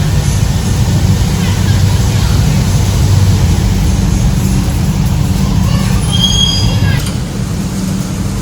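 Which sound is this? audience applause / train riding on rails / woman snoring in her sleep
train riding on rails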